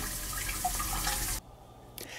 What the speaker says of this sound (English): it wouldn't be a cruise ship tour without showing off the terrifying toilet noise